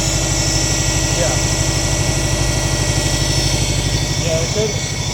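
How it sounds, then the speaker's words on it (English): A car engine idles roughly with a steady low throb, shaking and occasionally misfiring, heard up close; a few faint voices sound briefly over it. "Now you can see the engine shaky a little bit."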